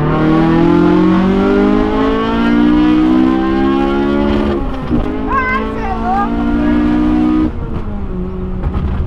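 A Honda Civic Si STG 5 accelerates hard, its engine pitch climbing loudly and steadily before a brief shift and renewed pull, heard from close inside the car with people talking.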